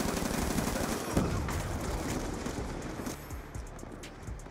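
Rapid automatic gunfire in a Black Ops 2 multiplayer match, dense bursts of shots with sharp cracks, loud and close, continuing for several seconds with no speech over it.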